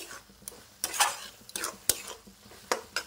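Mashed cabbage stirred in a pan, with a spoon scraping and clinking against the metal in uneven strokes over a soft sizzle, close and fairly quiet.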